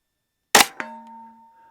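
A single sharp gunshot from an S&W FPC 9mm carbine at target practice, loud and close, followed by a brief echo and a lingering ringing tone fading out over about a second.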